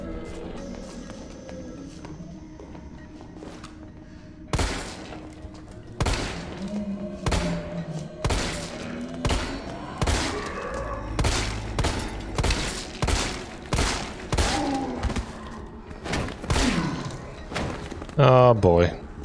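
Rapid gunfire in Resident Evil 3 Remake, a long run of loud, evenly spaced shots with heavy thuds between them, ending in a brief burst of a different sound.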